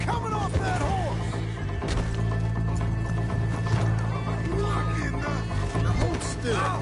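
Horses gallop in Red Dead with rapid, close clip-clop hoofbeats and an occasional whinny, while voices shout over the chase.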